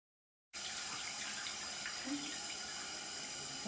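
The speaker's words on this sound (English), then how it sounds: "I'm simply letting the water run through, and then I'm squeezing it through" Tap water runs into a sink as a wig is rinsed beneath it, starting abruptly after a brief silence and then gushing in a steady, close hiss with faint splashing and no break.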